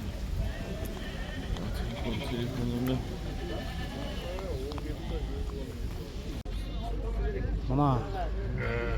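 Sheep bleat again and again at a busy livestock market, near and far, with hooves clopping and people talking steadily throughout.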